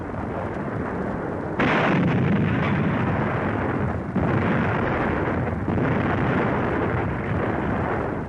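Heavy WWII artillery shells strike a supply dump in the North African desert, a dense continuous roar of blasts and rumbling detonations with sharp surges around two and four seconds, loud and sustained without voices.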